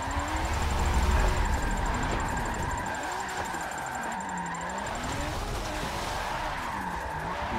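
Race car on race tires drifting in Forza 7, with a steady engine drone and continuous tire squeal that rises and falls as it slides, close and loud throughout.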